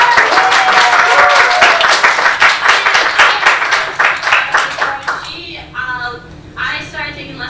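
An audience applauds steadily after a singing masterclass, many hands clapping in a dense, loud wash that thins into scattered, softer claps near the end.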